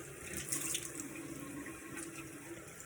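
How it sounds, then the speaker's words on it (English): A bathroom tap runs steadily while a face mask is rinsed off with cool water, making a constant close splashing hiss with no talking. "So I'm going to wash off with cool water my mask."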